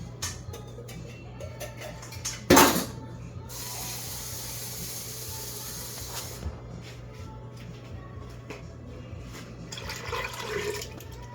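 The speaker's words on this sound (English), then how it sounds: "just gonna use a little water to wash this out" Water splashes into and rinses out a container while preparing Jamaican gungo rice and peas, starting with a sharp loud gush, then a steady low running-water wash with faint clinks near the end.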